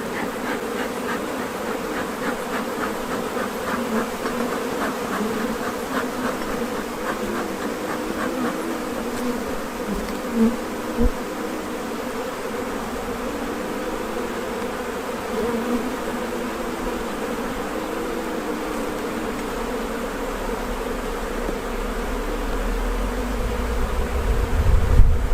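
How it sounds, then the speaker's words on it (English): A dense, continuous buzz of many honey bees hums steadily at an open hive during a spring hive check, with a low rumble swelling near the end. "we can kind of thin down the number of bees we're looking at"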